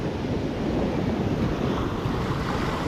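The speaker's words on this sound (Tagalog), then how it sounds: "Lakas ng alon eh." Strong ocean waves wash in a constant, heavy roar, with steady wind buffeting the microphone close by and no voices.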